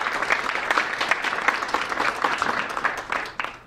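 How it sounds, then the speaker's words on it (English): Applause from a breakfast audience thanking the restaurant hosts, a dense steady patter of many hands that holds for several seconds before thinning at the end. "Can we give them a round of applause?"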